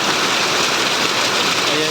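Heavy rain pours down in a dense, loud, unbroken hiss, drumming steadily on surfaces nearby. The downpour fills the whole stretch evenly.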